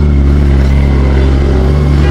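A Kawasaki ZX25R motorcycle fitted with a Yoshimura exhaust drones past close by, a loud continuous engine tone with a dense buzzing rumble that holds steady for the whole moment.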